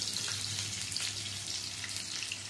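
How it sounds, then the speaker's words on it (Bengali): Raw jackfruit pieces fry in hot oil for a chilli dish: a steady, dense sizzling hiss that stays fairly even throughout, with no voices. "এঁচড়গুলো ভেজে নেব।"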